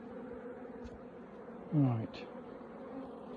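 Honeybees buzz around a hive during an apiary visit after the boxes were swapped and the entrance moved, a steady low drone with one louder pass close by, and a voice says a single word.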